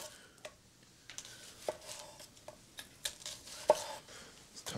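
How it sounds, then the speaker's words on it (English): A knife slices through red onion on a cutting board while wood-grilled steak is prepared, giving a string of quiet, irregular chopping taps with a couple of sharper knocks, close by and alone. "And then I'll just slice the red onion right in."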